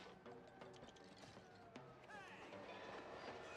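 Train rolling along the tracks in a video game, rhythmic clickety-clack of wheels and a passing rumble, fairly faint and mixed with clanking game sounds.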